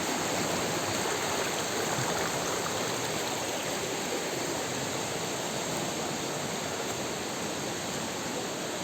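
Steady broadband rush of a river stream flowing near a waterfall in Banyuwangi, continuous and fairly loud with no voices, filling the whole stretch evenly.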